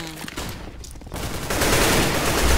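Gunfire in the video game Counter-Strike: Global Offensive, a burst of rapid shots that swells into a loud dense volley near the end, with no one talking over it.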